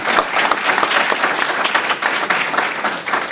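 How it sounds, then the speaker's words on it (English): School board meeting audience applauding for elementary staff, a loud, steady burst of many hands clapping close by, with no talk over it. "So if we could give them a round of applause for their hard work and"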